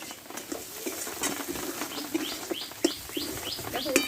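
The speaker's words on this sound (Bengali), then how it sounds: "এতে আমি একসঙ্গে সবগুলো কষে নেবো ভালোভাবে" Bitter gourd being stir-fried in masala in an oil pan, with steady soft scraping and stirring clicks over a low sizzle, close and fairly quiet, with no talking.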